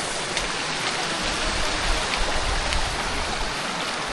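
Steady running water from a garden tap pours continuously, a close, even hiss with faint splashing throughout and no voices.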